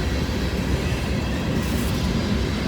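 An empty grain train rolls past with a steady, dense rumble and wheel noise, continuous and fairly close throughout, with no voices over it.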